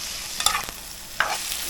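A spoon stirs saltfish rice frying in a pot during Jamaican street cooking in Kingston, giving two brief scraping, sizzling strokes a moment apart, close and fairly quiet, with no talking.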